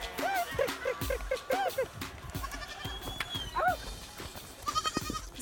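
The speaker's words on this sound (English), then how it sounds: "This afternoon, it's getting the goats back into the pen to milk." Goats in the Atlas Mountains of Morocco bleat again and again as they are driven back into their pen for milking, several animals calling close by amid rustling movement.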